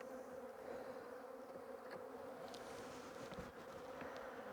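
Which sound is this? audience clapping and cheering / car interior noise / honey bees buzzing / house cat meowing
honey bees buzzing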